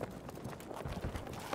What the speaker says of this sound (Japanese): 足音めっちゃしたんだけどな。